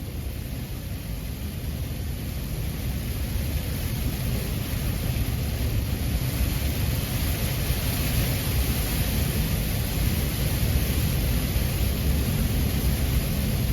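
Fine hail or sleet falls steadily in freezing winter weather, a dense, even hiss and patter that holds at a constant level with no voices.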